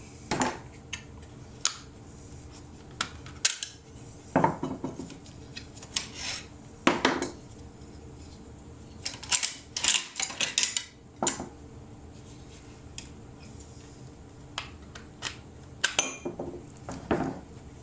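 An AK rifle is field stripped to replace its gas tube with a custom billet upper: scattered sharp metallic clicks, clinks and scrapes of parts being handled, with quiet gaps between them.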